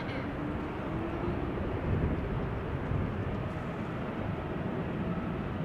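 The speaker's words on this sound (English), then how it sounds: "A jet in a new livery." Jet aircraft in a new livery at Amsterdam Schiphol Airport, a steady broadband roar holding at a distance throughout with no talk over it.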